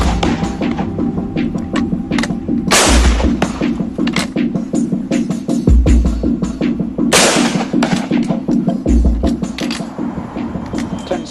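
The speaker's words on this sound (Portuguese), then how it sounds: "Com o Springfield, os soldados precisam recarregar depois de cada tiro." A Springfield rifle is fired single shot at a time, with a reload between rounds, producing several loud, spaced blasts over continuous background noise.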